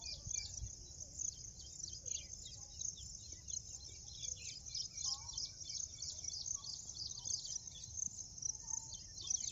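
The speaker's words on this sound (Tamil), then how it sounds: "எவ்வளோ குருவிங்க சாப்பிடுது பார்த்தீங்களா." Sparrows feeding in a field of ragi and pearl millet, with a steady dense chorus of high chirps and twitters throughout, plus constant insect buzz and faint low rumble, moderately distant.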